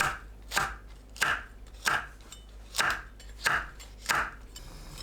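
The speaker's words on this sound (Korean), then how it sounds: "양파를 두툼하게 썰어줍니다." A knife chops an onion into thick slices steadily on a cutting board, about eight crisp, evenly spaced strokes, close and distinct with no voices.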